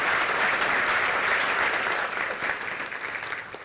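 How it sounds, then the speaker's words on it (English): Conference audience applauding steadily, a dense sustained patter of clapping that fills the room and eases off slightly toward the end, with no talking over it. "I'd love to give them a round of applause"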